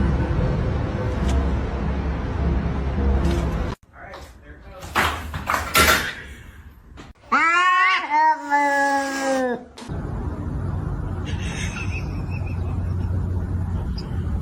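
A kitten gives a series of clear, rising and falling meows close by, following a stretch of steady background noise and some thumps, then the noise resumes.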